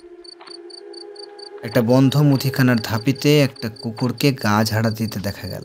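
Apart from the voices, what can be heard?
crickets chirping at night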